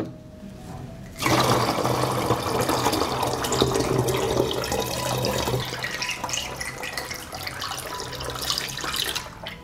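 Water gushes steadily into a 2.5 litre plastic bottle, a loud continuous splashing rush that starts abruptly and runs on until it suddenly stops.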